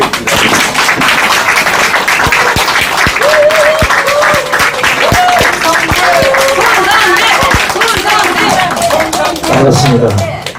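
Loud, dense crowd applause fills a political rally about alleged election fraud, steady throughout, with scattered cheering voices and a rhythmic chant rising over the clapping.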